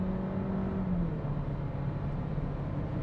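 A Skoda Octavia in sport transmission mode accelerates hard from a launch with wheelspin on a low-grip surface, its engine revving in a steady rising drone heard from inside the car, without talk.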